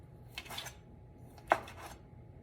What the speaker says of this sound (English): we're gonna take this length of smoked sausage here, and we're just gonna slice it a little bit diagonal in thin slices